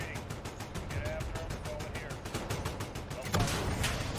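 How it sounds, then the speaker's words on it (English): Rapid bursts of automatic gunfire in a Call of Duty Modern Warfare match crackle in dense, repeated volleys, with a louder close burst near the end and some game noise mixed in. "You guys are actually shooting at me."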